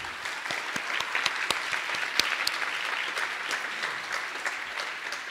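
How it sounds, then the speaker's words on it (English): Audience at a conference on revolutionary politics applauds interpreters with steady, dense clapping, close and moderately loud, continuing evenly throughout without speech. "we can give them a big round of applause"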